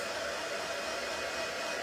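A hair dryer blowing at close range, a steady loud whooshing hiss that stays constant throughout with no voices.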